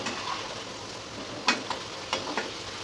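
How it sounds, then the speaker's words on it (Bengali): Potatoes frying in oil in a covered pan, a soft steady sizzle with a few louder stirring scrapes and clatters near the end. "আলুগুলো ভালো করে লাল লাল করে ভেজে নিতে হবে।"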